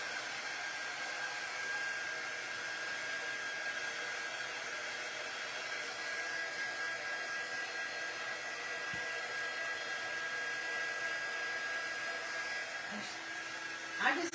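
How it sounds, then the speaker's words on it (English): Small blow dryer on a low setting heating wax, a steady close whooshing hum that runs unbroken throughout, with a brief clunk near the end. "we're just going to keep with the little blow dryer because I just want to move faster"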